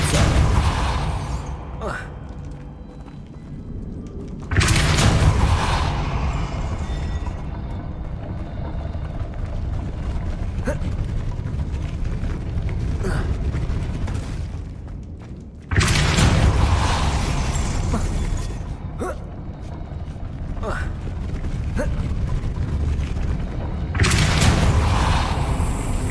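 Depulso force spell cast in Hogwarts Legacy, with three loud booming bursts roughly ten seconds apart over steady game ambience, each a sharp thump fading into a rumbling tail.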